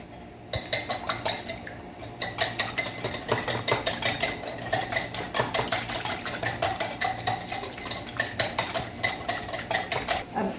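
Egg and sugar being whisked by hand in a large bowl, a steady run of quick metallic clinks and scrapes of the whisk against the bowl, close and fairly loud with no voices.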